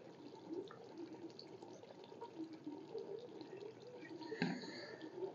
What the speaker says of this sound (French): À 30 secondes, vous allez rincer avec de l'eau distillée.